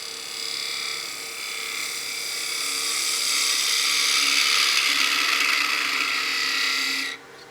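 A wood lathe gouge, a smaller 3/8 tool, shaves steadily into a spinning wine glass blank, a continuous bright hissing cut that swells slightly in the middle and stops abruptly near the end, with no voices.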